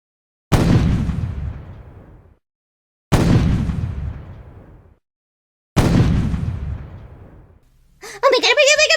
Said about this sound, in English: Guards, fire the party cannons.